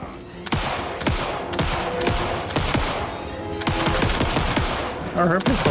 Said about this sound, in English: Oh, her pistol's like automatic